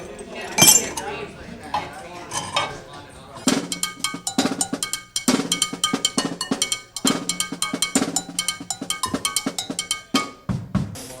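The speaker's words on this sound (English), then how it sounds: "Cowbell, frying pan." Cowbell and frying pan struck as percussion in a small trio: a few loose clanks, then a fast, bright, metallic rhythmic pattern of sharp hits with ringing overtones, close and prominent, with a voice briefly talking.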